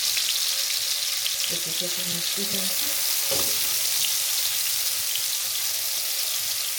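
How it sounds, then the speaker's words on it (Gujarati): Paneer frying in oil on a low gas flame, a steady loud sizzle throughout, with a brief voice speaking over it midway. "અને ગેસ ધીમો કરી દીધો અને પનીર ફ્રાય કરી લઈએ"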